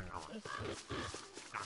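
Hounds barking and yipping in the video game Don't Starve, short yelps close and loud, mixed with game sounds.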